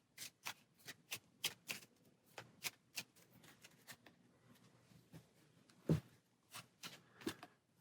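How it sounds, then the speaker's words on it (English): A deck of cards for the Maximum Apocalypse board game being shuffled, with a rapid run of crisp riffle bursts and snaps up close, one heavier thud partway through, and no talk. "Give it a shuffle."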